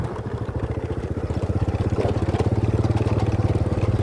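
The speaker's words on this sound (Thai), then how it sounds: "รถไถมานะคะแถวเนี้ย" Farm tractor engine chugging along a rural village lane, its rapid, even diesel thump growing steadily louder and closer over about four seconds.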